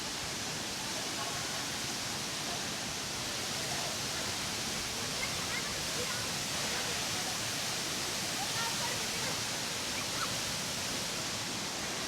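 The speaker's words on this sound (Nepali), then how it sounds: "झर्ना चाहिँ यहाँबाट लभली नै माथिसम्म छ होइन" A waterfall on the Marin river in Sindhuli roars as a dense, steady wash of falling water, loud and unbroken throughout, close by.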